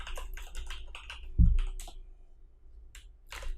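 Computer keyboard keys click in quick bursts of typing, close and crisp, with a single heavier thump partway through and short pauses between runs of keystrokes.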